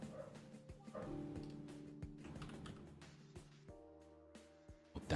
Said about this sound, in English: that's why he's barking like crazy